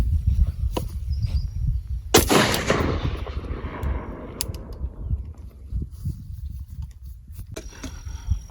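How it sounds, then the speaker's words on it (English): A home-built AR rifle in .223/5.56 fires a single sharp, loud shot at steel training plates outdoors, the report rolling away in a long fading echo, with no voices. "Last thing we brought out today is a home-built AR chambered in 223-556"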